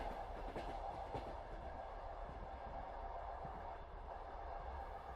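A train rumbles along the rails in a steady, muffled drone with faint rhythmic clacking, heard from inside a carriage and with no voices.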